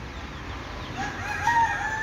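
A rooster crows once at mid distance across a short outdoor stretch, the call rising over a steady low background hum with no talking.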